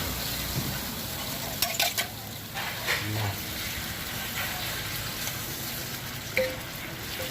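Butter sizzles in a pan for frying roti, a continuous soft hiss with a few sharper pops and light utensil taps scattered through it.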